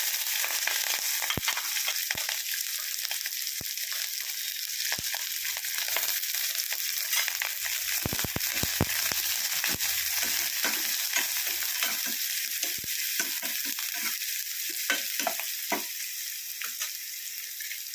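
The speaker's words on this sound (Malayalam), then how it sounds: "നമുക്ക് എന്നിട്ട് ആ ഉള്ളിയും പച്ചമുളകും കൂടി ഇട്ട് വഴറ്റാം." Onion and green chilli sautéing in a pan for a Kerala lime theeyal, a steady close sizzle and fry with scattered stirring scrapes throughout.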